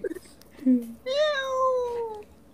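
A person imitates a cat in a hotel room, giving a few short meows followed by a longer, rising-falling meow, close and clear.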